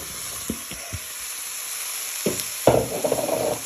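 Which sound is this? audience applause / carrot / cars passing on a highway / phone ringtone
carrot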